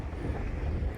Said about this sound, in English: Sorry about the wind, but that's the beach there.